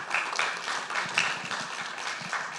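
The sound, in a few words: applause at conference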